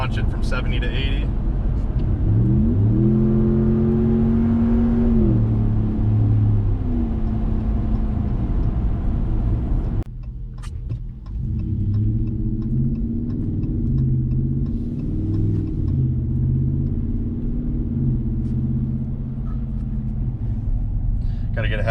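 A Ram 1500 pickup with a 5.7L Hemi V8 and Borla S-Type catback exhaust accelerates at highway speed, a steady low engine rumble rising in pitch under wind noise and someone talking.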